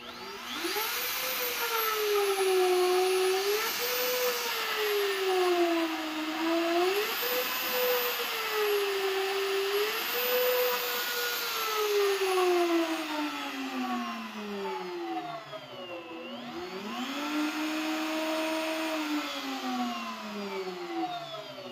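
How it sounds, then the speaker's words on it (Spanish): A Truper wood router running and ramped up to speed 6, a loud continuous motor whine that rises and dips in pitch as it is adjusted, with one sharp drop and recovery near the end. "este tipo de router de la marca Trooper"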